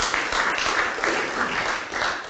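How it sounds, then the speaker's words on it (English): An audience applauding in a lecture hall, a dense steady wash of many hands clapping for a couple of seconds with no break. "Everybody applaud, even though she's not in the room."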